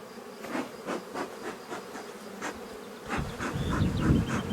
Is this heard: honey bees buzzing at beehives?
yes